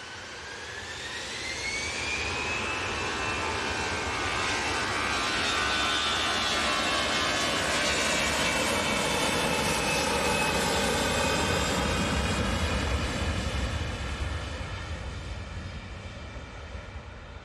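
Jet airliner departing Manchester Airport for Oslo, a loud, close engine roar with rising whining tones that builds, holds strongly and then slowly fades as it climbs away.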